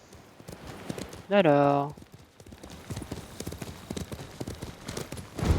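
Horse hooves clip-clopping at a steady walking rhythm in the video game Ghost of Tsushima, with a brief whinny near the start and someone speaking French briefly.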